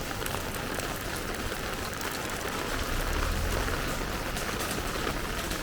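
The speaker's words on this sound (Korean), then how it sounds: "아, 진짜 비 살벌하다." Heavy rain pours onto an Ikebukuro street in Tokyo during typhoon weather, a dense, constant hiss of drops on surfaces throughout, with a brief low rumble partway through and no voices.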